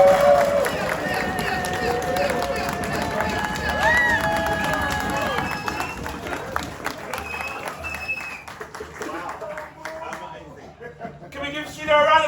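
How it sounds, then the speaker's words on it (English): A theatre audience at a Black History Month playback theatre event stamps feet and claps in welcome, a dense, loud roar of applause and cheering with crowd noise that thins out toward the end. "Let's stamp our feet and shake and just clap our hands"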